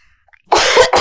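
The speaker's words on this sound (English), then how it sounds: "come on, cough it out." One person coughs in a short, harsh burst of two or three close, loud coughs after a moment of near silence.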